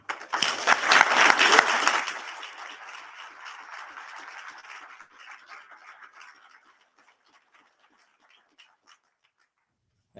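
An audience bursts into applause welcoming a speaker, loud clapping for about two seconds, then thinning into scattered claps that fade out over several more seconds.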